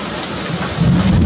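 Steady heavy rain hisses close by during an October thunderstorm in Kharkiv, with a low rumble swelling underneath toward the end.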